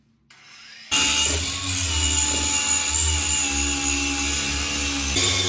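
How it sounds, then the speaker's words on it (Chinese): An angle grinder fitted with a serrated, toothed cutting disc cuts through a washbasin, a loud steady whining roar that starts abruptly after a brief lower spin-up and holds constant. "拆这个盘要角磨机配合一个好的切割片，我们用的这个就是锯齿形的"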